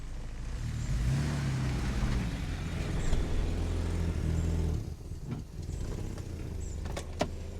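Mercedes-Benz S124 Estate engine cranking and firing up, then settling into a steady low idle hum, close and moderately loud, with a few light clicks and knocks near the end.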